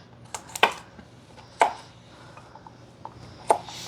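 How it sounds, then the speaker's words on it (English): Knife chopping leek on a cutting board in a home kitchen, a few sharp, separate chops spaced about a second apart, close and clear against a quiet room hum. "we're cutting up the leek now"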